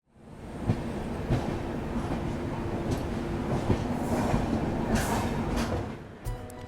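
The Jaipur–Delhi Double Decker Express rolls past near Rewari with a steady loud rumble of wheels on rail, faint clickety-clack beats and brief higher screeches near the end.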